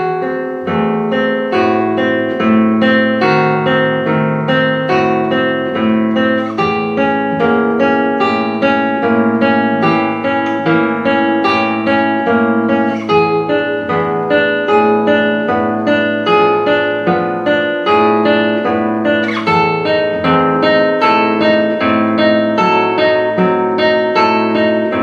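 Steady plucked classical guitar arpeggios with a repeating broken-chord pattern, played evenly and continuously in a close, clean recording with no voices.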